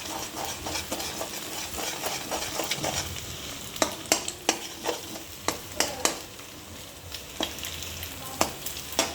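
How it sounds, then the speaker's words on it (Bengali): An egg fries in hot oil in a wok with leftover rice and potatoes, giving a steady crackling sizzle, while a spatula scrapes and taps the pan in repeated sharp strokes. "তো ওই মাঝখানটা এরকম করে ভেজে নিতে হবে।"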